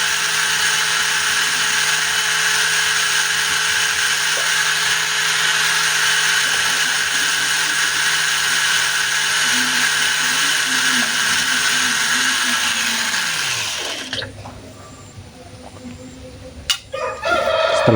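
A steady, loud whine of a bench grinder sharpening a drill bit runs on continuously, then winds down and stops near the end, followed by faint clatter.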